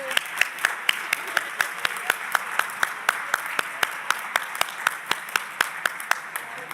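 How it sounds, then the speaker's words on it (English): Rhythmic, evenly spaced clapping from the audience at a parliamentary women's forum, steady sharp claps in unison at close range that keep a regular beat throughout. "if you can stand up so we can give a clap for you"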